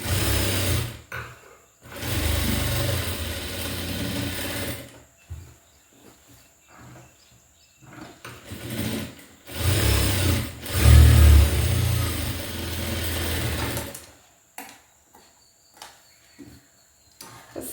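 An electric sewing machine stitches sleeve pieces together, running in several loud bursts of a few seconds each with short quiet pauses between them.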